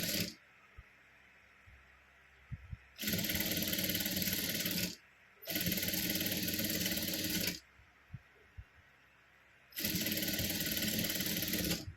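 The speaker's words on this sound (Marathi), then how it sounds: "पूर्ण आपण अशी शिलाई मारून घ्यायची आहे" A sewing machine stitches a blouse latkan in three steady whirring runs of about two seconds each, separated by quiet pauses with faint clicks, close and without talk.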